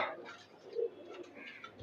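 Breeding pigeons in a loft give a soft, brief coo, faint and close, amid light rustling.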